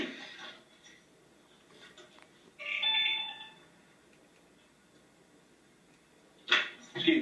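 A mobile phone rings during a legal deposition, a short electronic ringtone burst standing clear of the quiet room, with brief speech and noise before and after it.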